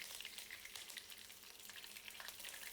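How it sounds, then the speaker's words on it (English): Methi seeds and curry leaves spluttering in hot oil, a continuous crackling sizzle with fine popping, quiet but steady and close, with no voices. "add few methi seeds, then curry leaves and allow it to splutter thoroughly"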